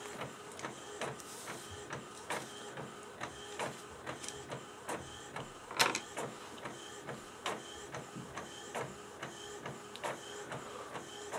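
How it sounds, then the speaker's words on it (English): A desktop printer works through a sticker sheet, its print head shuttling back and forth in regular clicks and whirs, fairly quiet and close, with one sharper clatter midway. "Yeah, it's printing."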